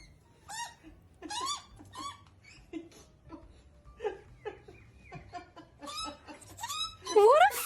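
A pet bird, likely a conure, squawks and chirps in short, funny bursts between bouts of casual talk and laughter, ending in a louder rising squeal.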